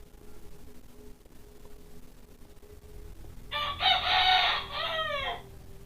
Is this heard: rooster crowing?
yes